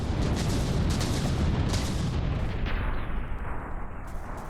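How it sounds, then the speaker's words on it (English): Constant barrages of 500mm naval shells firing in From the Depths battleship combat: dense, loud, continuous rumbling booms overlapping one another, tapering off slightly toward the end. "Let's rest our ears a little bit from the constant barrages of 500mm shells being spammed."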